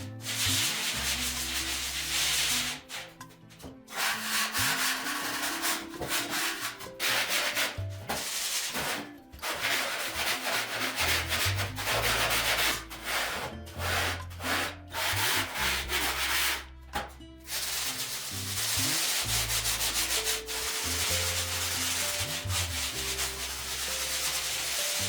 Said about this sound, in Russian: Затем я начал использовать терку с грубой наждачкой фракции 40